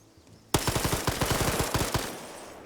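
Automatic gunfire in a multiplayer shooter video game bursts out suddenly as a rapid string of sharp, closely spaced shots, loud and near, lasting about a second and a half before trailing off.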